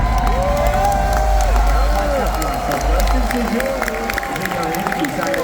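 A large home crowd at a Counter-Strike esports semifinal in Dallas roars and cheers steadily throughout, loud and dense, with a caster's voice running over the noise.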